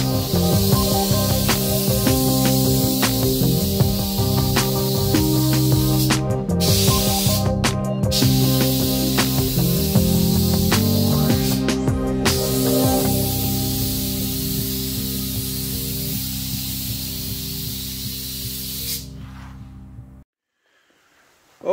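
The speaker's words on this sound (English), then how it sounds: "for some more undertones now for a little bit of the sparkle pearl red." Spray gun laying down sparkle pearl red paint during a custom motorcycle tank candy red paint job, a steady close hiss running continuously for about twenty seconds over background music, then cutting off.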